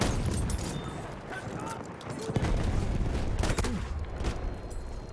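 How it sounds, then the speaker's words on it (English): An automatic shotgun firing in a Battlefield 1 close-quarters match on the Amiens map: repeated sharp blasts and rapid bursts over battlefield noise, with someone talking through it. "God, I think it's an auto shotgun."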